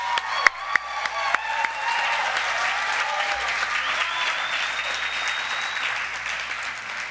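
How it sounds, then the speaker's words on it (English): An audience at a nursing pinning ceremony claps, opening with a few sharp individual claps before swelling into full sustained applause, with a held tone ringing above the crowd. "Let's give them one more round of applause."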